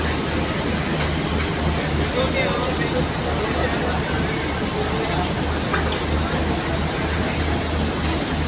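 The GreenLine Express passenger train, running late from Lahore toward Rawalpindi in Pakistan, rolls along with a steady, dense rumble of wheels on rails and continuous carriage noise heard from inside.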